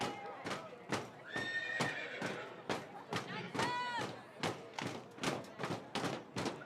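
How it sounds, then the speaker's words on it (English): A horse whinny sound effect with clomping hoofbeats plays over a baseball stadium PA during a minor-league game, the neigh rising clearly mid-clip while regular thudding hoof clops repeat throughout beneath crowd noise. "the horse sound effect with all of the clomping"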